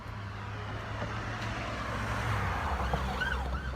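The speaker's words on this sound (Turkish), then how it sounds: "Görüyorsunuz siren seslerini." Emergency sirens wail continuously over a low traffic rumble at a wildfire zone in Turkey, moderately distant, with wavering tones rising and falling toward the end.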